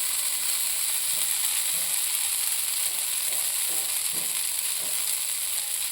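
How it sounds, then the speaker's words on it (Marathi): Finely chopped onion sizzles in a hot pan over a high flame for a mix-dal tomato omelette, a steady frying hiss throughout with a few soft stirring knocks, no talking. "सुरुवातीला त्याच्यावर थोडा कांदा असा बारीक बारीक टाकून घ्यायचा."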